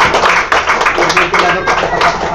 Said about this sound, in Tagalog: Lakas sa palakpak sa ating Panginoon.